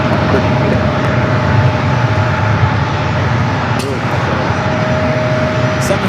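A Boeing 757-300 airliner taxiing along an airport taxiway toward runway 27 gives off a steady, loud broadband engine roar with a faint whine, constant throughout with brief clicks.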